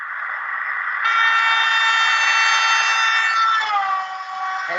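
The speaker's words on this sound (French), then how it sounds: "Lorsque la voiture arrive vers vous, le son émis par la sirène semble très aigu" Tonal police car siren drawing close and then passing by, a loud sustained wail that drops abruptly in pitch as the car moves away, heard alone with no talk.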